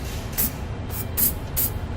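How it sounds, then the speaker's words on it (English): Spray paint hisses in several short bursts over a freshly drilled trailer hitch hole in the bare metal of a 2019 Subaru Outback, each spurt crisp and close, with a low background rumble between them. "it's a good idea to use a little spray paint to paint over the hole that we just made"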